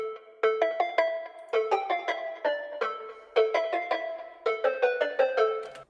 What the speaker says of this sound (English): adding a stereo shaper, which adds a delay between the right speaker and the left speaker